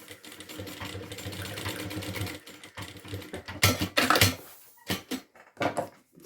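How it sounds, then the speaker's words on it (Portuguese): A sewing machine runs in short bursts while stitching along the edge of a beach backpack, nearby and fairly quiet, with uneven stops and restarts and no talking. "vou aqui só passar uma costurinha para prender"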